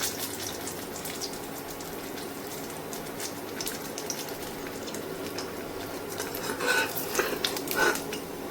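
Stuffed brinjal (eggplant) slices frying slowly in oil in a pan, giving a steady soft sizzle throughout with a few brighter crackles and pops near the end, no voices.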